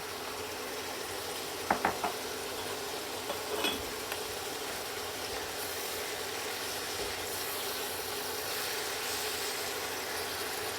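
Ground beef, cabbage and onions frying in a pan give off a soft, steady sizzle, with a few quick utensil clicks early on and no talking.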